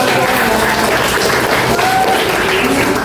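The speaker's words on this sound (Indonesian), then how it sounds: "Oke, tepuk tangan dulu." A group audience claps at a student public speaking presentation about a cultural festival, producing a loud, close, continuous burst of applause with faint voices mixed in.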